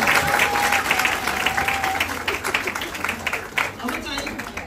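Applause at a wedding, a burst of many hands clapping close by and fading over a few seconds, with voices talking over it.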